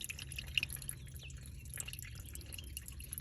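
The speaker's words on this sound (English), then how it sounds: "water starts running out of the intake" Water drips and trickles out of the intake of a flood-damaged Mustang GT/CS after the inlet pipe is pulled, a steady quiet wet patter with a low rumble underneath and no talk.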